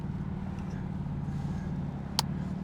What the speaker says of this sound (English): he wanted to hear how the exhaust sounded because he knows that I did the little mid-pipe install